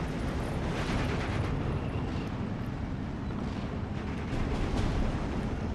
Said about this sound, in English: artillery has taken out my mighty half-track here